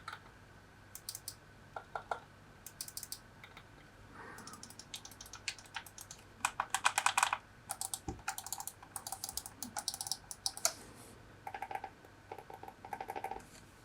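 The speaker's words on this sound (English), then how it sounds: "I'm going to let you listen to all the buttons and clicking that happens with this controller" GameSir G7 Pro wireless PC controller, Aimlabs Edition, with its buttons pressed in turn, giving quiet irregular clicks and quick clattering bursts of switch taps, close up over faint background hiss.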